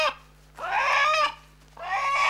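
A rooster crowing on a poultry farm during veterinary blood and swab sampling near Naberezhnye Chelny: two loud, close, drawn-out calls separated by a short pause.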